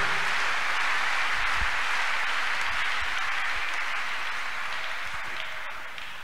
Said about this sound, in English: Let's clap and appreciate God of choosing.